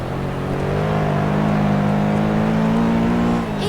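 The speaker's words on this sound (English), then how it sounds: "And it's noisy also, thanks to the turbocharger." Turbocharged car engine in a racing video game, a loud, steady droning roar that holds at an even pitch throughout with no talking.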